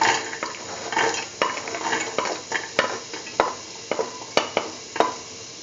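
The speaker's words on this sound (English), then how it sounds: "Mix thoroughly." A chickpea and mustard potato mixture is stirred in a pan, with repeated scraping and clinking of a utensil against metal and a faint frying sizzle underneath, in uneven close strokes.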